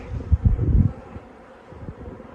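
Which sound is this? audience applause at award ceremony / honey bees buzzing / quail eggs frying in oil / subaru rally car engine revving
honey bees buzzing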